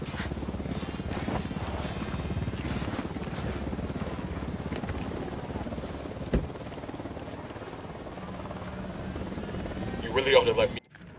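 Helicopter rotor chop from a patrol chopper in Ghost Recon: Wildlands, a steady loud drone with engine and wind noise holding for about ten seconds before a short burst of louder clatter and a quick cutoff; game voices talk over it.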